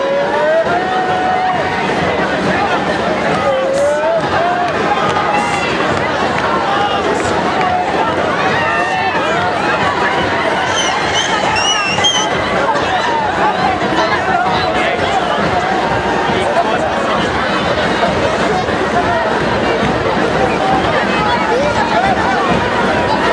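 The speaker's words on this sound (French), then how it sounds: "Autour de lui, la foule est déchaînée." Wild, dense crowd noise at the Pézenas carnival as revellers surround the totem figure, a steady roar of shouting, chatter and whistles sustained throughout with no pause.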